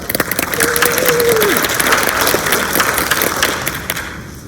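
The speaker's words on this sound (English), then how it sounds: "Clap it up for Carla" Board meeting audience clapping for a middle school educator: loud, dense applause from a packed room that swells quickly and holds steady, with a brief whistle-like tone early on, tapering off near the end.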